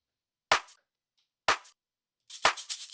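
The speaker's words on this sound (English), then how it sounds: "And then we got a clap" A house-track clap sample snaps out alone, two single sharp claps a second apart, then a third clap layered with a quick flurry of bright rattling hits.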